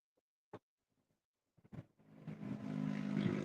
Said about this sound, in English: She revved up a little old car